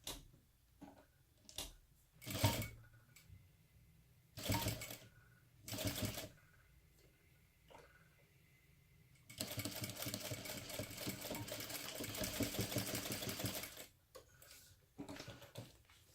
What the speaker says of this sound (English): we will stitch right along this edge about 1/8 of an inch away